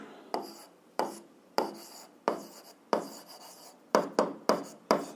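A pen scratches out an algebra solution on paper in about ten quiet, close strokes, each a short rasp that fades quickly, with some coming in quicker clusters near the end.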